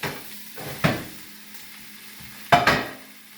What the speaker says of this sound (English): We're going to drop our ground beef right in there